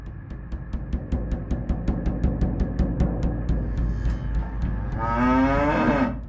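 Cows in a dairy barn, with a steady run of rhythmic ticking clicks in the background and a drawn-out, close moo that swells near the end.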